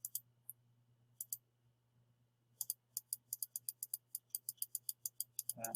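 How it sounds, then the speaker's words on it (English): A computer mouse clicks sharply while someone edits in PowerPoint, scattered at first and then in a quicker steady series, close and alone in a quiet room. "I'm clicking there."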